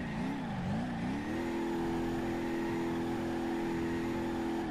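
A car drifting in BeamNG.drive, engine revving and wavering before settling into a steady loud drone, close and continuous with no talk.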